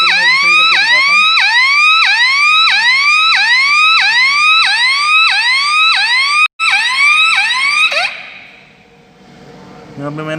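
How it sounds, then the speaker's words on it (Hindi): Hooter alarm on a 1HP VFD motor control panel, a loud, close, rapidly repeating electronic rising wail that runs steadily for about eight seconds and then cuts off. "ये हूटर बज चुका है"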